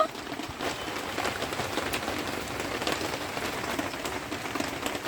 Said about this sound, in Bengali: এত বৃষ্টি হচ্ছে না প্রচুর ঝমঝম শব্দ আপনারা পাচ্ছেন নাকি